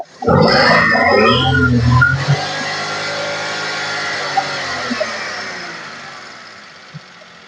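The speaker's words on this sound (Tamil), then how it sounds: "என்ஜின் ரேஸ் பண்ண பாருங்க" A used Maruti WagonR engine roars up sharply in a loud rev, then settles into a steady idle that slowly fades, with a few small clicks near the end.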